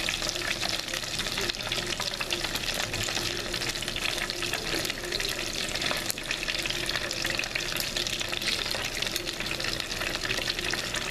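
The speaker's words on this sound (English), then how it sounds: "I don't add a lot of shrimp in my deep fryer at a time because these are fairly large shrimp" Large battered shrimp fry in a deep fryer of hot oil, giving a dense, steady, close sizzle that holds at one level throughout with no voices.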